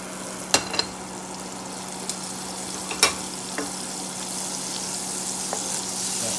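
Butter melting in a pan for a simple sauce, giving a soft, steady sizzle with a few sharp pops and clicks, no talk over it.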